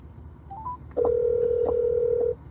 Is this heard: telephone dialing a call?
yes